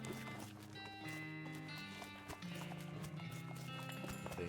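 Horse hooves clip-clop at a steady walking rhythm in the West of Loathing video game, quiet and set under a continuous bed of game music.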